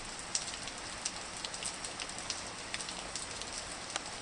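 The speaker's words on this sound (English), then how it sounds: "You're offering me refuge from the rain?" Faint, steady rain falls with a soft hiss, broken by occasional sharper drips landing close by at irregular intervals.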